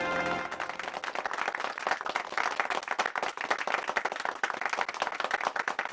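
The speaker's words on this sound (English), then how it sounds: "let's give our volunteer a round of applause." Audience applause for a volunteer at a children's fire safety show held outdoors near a fire truck, a dense burst of clapping from a small crowd that swells quickly and carries steadily for several seconds.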